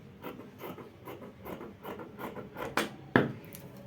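Scissors trim cotton shirt fabric around the back armhole of a vintage-style men's camp collar shirt, giving a run of soft, close rasping cuts with a few sharper snips near the end.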